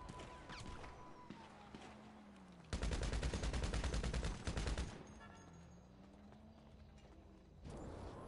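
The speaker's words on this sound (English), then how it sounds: "somebody's shooting at me" Rapid bursts of automatic gunfire fire at the player in a PS4 video game, a dense, loud rattling volley lasting about two seconds, set against quieter in-game engine and ambient noise, with a shorter burst returning at the end.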